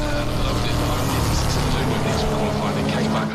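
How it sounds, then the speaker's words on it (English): Powerful classic sports racing cars roar past at Castle Combe circuit, a loud continuous engine blare with shifting pitch throughout, with speech likely underneath. "the sound of these cars is quite staggering"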